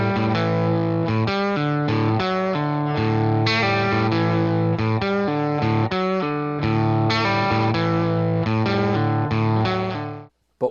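An electric guitar run through effects with distortion and chorus plays a Mixolydian riff, loud and continuous, with repeated chord stabs and no talking, then cuts off abruptly at the end.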